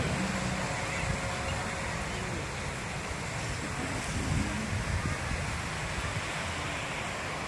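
Ocean surf rolls against a breakwater at Tambak Rejo beach in Blitar, a steady broadband wash of waves mixed with wind buffeting the microphone, continuous and fairly loud throughout.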